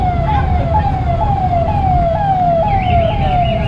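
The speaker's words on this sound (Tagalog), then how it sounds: "Wait lang, may ambulansya." An ambulance siren wails in a steady repeating two-tone rise-and-fall on an evening street in Nepal, loud and close over a constant rumble of traffic, with no talking.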